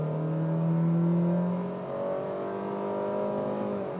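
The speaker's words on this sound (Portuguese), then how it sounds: "Eu estou parado e vou sair acelerando tudo" A 2022 Honda City Sedan EXL pulls away hard from a standstill, its engine note climbing steadily through rising revs, then easing and building again, fairly quiet and smooth with no talk.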